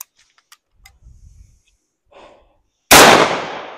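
A single loud shotgun blast firing a 3/4 ounce load of number 4 buckshot bursts out near the end, its boom trailing off, after a stretch of quiet handling clicks and faint breathing.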